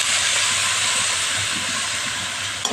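Boiled mung dal tipped into hot oil with fried turmeric and chilli powder gives a loud, continuous sizzling hiss that holds steady for a few seconds and ends with a small knock.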